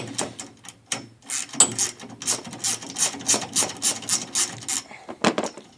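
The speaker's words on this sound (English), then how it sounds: "we want to use our two ratcheting, put them on reverse. And we basically plug away at them like this." A ratchet wrench set to reverse works loose the bolts of a Sole elliptical trainer, giving a run of quick rasping clicks in short rhythmic bursts, close and fairly loud, with no talking.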